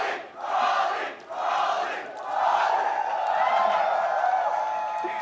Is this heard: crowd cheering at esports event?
yes